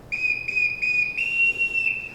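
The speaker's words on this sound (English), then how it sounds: "I can't bear being whistled for." A ship captain's whistle in a film shrills in repeated steady high blasts, with short breaks between the first few and a longer sustained blast after, loud and clear with no talking.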